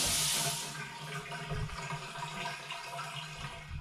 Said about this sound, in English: It drains really well. All the water just comes right down.